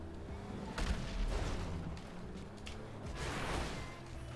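Gunfire and explosions in GTA 5 Online during a fight between big cars and rocket launchers: dense booming blasts and sharp shot bursts, with heavier impacts near one and three and a half seconds, continuous game noise throughout, no speech.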